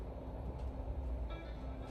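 Vy PlusNight night train running through Norway toward Bergen at the end of the line, giving a steady, close, continuous low rumble with faint higher rail hiss throughout.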